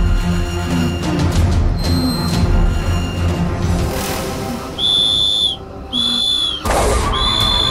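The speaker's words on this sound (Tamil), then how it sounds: "நீ விசில் அடிச்சு எல்லா போலீஸ்காரங்களையும் கூப்பிடும்" A police whistle is blown in several shrill, piercing blasts. Some are held long and some cut short, and they sound loud and close over a dense, noisy background with no clear speech.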